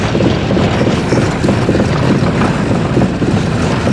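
An all-terrain vehicle fitted with wheels made from tractor tracks creeps slowly through snow, giving off a loud, constant mechanical rumble and churning, with wind buffeting the microphone throughout.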